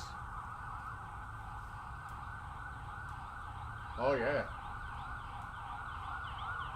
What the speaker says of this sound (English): Police and then an ambulance.